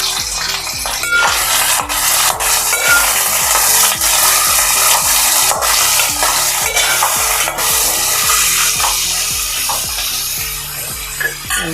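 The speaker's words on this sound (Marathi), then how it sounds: "तेल छान गरम झालं तर आपण कांदा घालून घेऊया" Onions frying in hot oil for a prawn and raw mango curry, a loud, steady sizzle close up, punctuated by repeated scraping and stirring knocks of a spatula against the pan.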